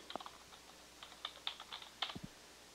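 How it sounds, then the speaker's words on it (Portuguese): Quiet, close keystrokes on a computer keyboard tap out an email address in an irregular run of light clicks, ending with a slightly firmer press of the Enter key. "eu vou colocar aqui um e-mail e vou dar um Enter"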